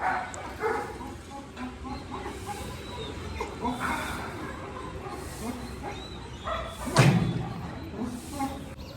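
Several dogs, including a German Shepherd and a Labrador, bark and yip intermittently in a hostel, some distant and some nearer, with a loud thump partway through and people talking in the background.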